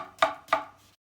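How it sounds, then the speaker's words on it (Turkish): Tomatoes chopped with a knife on a board for a bulgur dish: two crisp, close chops about a third of a second apart, then quiet. "Hemen domatesini de doğruyoruz."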